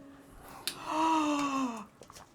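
A video game character lets out a single drawn-out, breathy gasp that rises and then trails off, clear and close with no talking.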